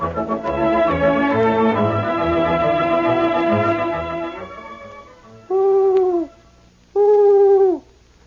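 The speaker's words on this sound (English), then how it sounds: "the owl is a wise old bird" Deep owl hoots from a vintage radio drama sound effect, two long, clear hoots standing alone after a fading musical passage.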